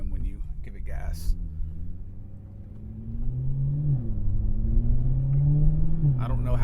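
A BMW M6 twin-turbo, tuned to 850 hp with an Akrapovic exhaust, rumbles and builds revs from inside the car, with a rising turbo whine layered over the engine drone and a voice talking briefly.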